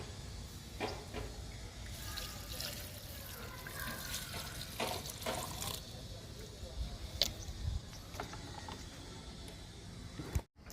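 Liquid fertilizer poured onto an ajwain plant, a steady trickling, splashing stream like water from a tap running for several seconds at close range with faint background noise.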